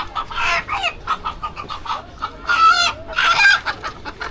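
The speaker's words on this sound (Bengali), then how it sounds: "তো এটা হলো মুরগের বাজারে আছি আমরা এখন" Chickens at a chicken market cluck loudly and close by, with repeated squawking calls and rooster crows rising in bursts over a busy background.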